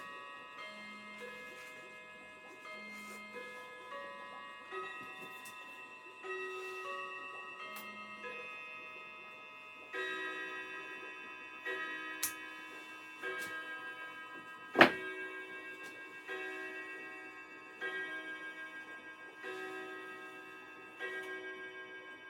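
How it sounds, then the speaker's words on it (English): A clock sounds a slow sequence of ringing chime strokes, each decaying before the next, with a steady tick-tock in between and one sharp knock near the middle, close and moderately loud. "Mr. Clock says it's 8 o'clock."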